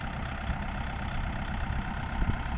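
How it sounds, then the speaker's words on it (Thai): A tractor's low, steady engine rumbles and idles throughout, close and continuous, with no other sounds. "ขับรถไถเองครับ"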